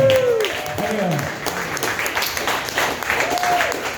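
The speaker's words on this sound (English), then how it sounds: "give you guys a round of applause" Comedy club audience at a stand-up show in Maui applauding, a steady wash of clapping beneath a performer talking over it.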